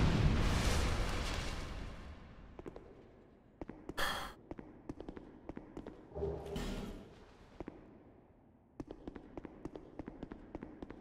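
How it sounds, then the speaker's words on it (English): Giant explosions from a frog enemy in Dark Souls II, heard as a loud rumbling blast up front, then two more bursts around four and six and a half seconds, with scattered sharp clicks and impacts between them. "That the frog below can hit me with giant explosions?"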